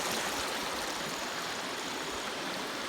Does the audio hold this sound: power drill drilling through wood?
no